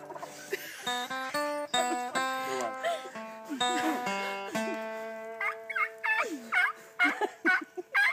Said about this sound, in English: Can you hear those turkeys calling?